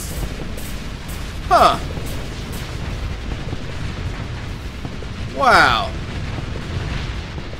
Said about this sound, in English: There go my photon torpedoes.